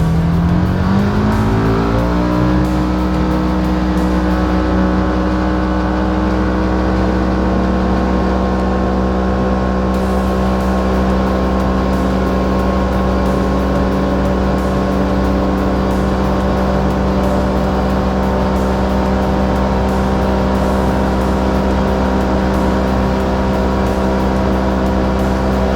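A Polaris Ranger UTV fitted with a clutch kit and tune, run in performance mode toward top speed, its engine rising quickly in pitch and then holding a loud, steady drone with no talk.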